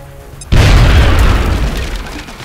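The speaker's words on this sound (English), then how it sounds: "Now toss your grenade at the enemy in front of you." A grenade goes off in XCOM: Enemy Unknown after a brief quiet moment: a sudden loud, deep boom with a rumbling tail that slowly fades, with no speech.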